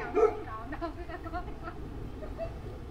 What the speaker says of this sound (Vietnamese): Chà mấy bạn chó này nè